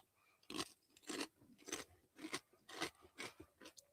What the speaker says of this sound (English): Excellent crunch, good crisp. Love the Ruffles with ridges.